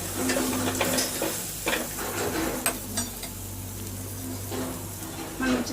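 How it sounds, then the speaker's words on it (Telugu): Crushed black pepper stirred and frying in a pan for tomato rasam, a steady soft sizzle with scraping spoon strokes against the pot, while someone talks over it. "మిరియాలు దంచి పెట్టుకున్న దీన్ని ఇలా వేసుకోవాలి వేసుకుంటూ ఒకసారి ఫ్రై చేసుకోవాలి"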